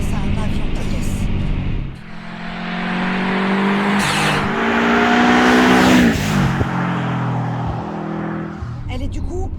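Subaru Impreza WRX STI Petter Solberg WR1 accelerating hard, a loud rising engine roar through gear changes with brief dips between pulls, heard from inside the car as people talk over it.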